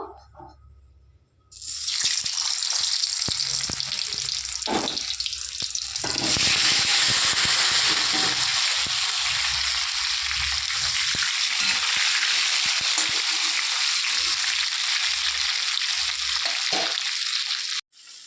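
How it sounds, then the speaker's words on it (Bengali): Potato pieces drop one by one into hot oil in a wok, bursting into a loud, sustained frying sizzle that holds steady for many seconds, with light utensil knocks in the quieter moments. "আমার কড়াইয়ে তেল গরম হয়ে গেছে, এবার আলুগুলো আমি একটা একটা করে ভেজে নেব।"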